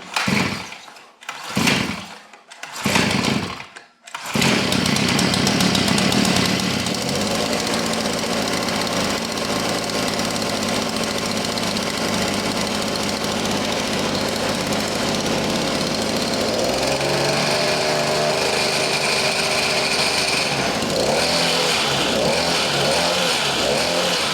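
A Hover HeartS DB002 49cc minibike engine, pull-started: a few short bursts of effort, then the small engine catches and runs at a loud, steady rattling idle, shifting pitch slightly near the end, close by.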